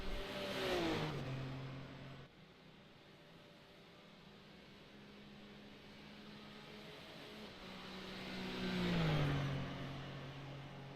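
Super Formula Lights open-wheel race cars at Mosport in an iRacing sim race sweep past with rising and falling engine whines, one pass near the start and another louder one near the end, with a steady drone between.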